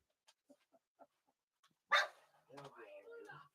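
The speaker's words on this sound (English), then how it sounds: "You get to hear my dogs bark." Several dogs bark indoors, with a few faint early yips, then a sharp nearby bark followed by whining, yelping vocalizations.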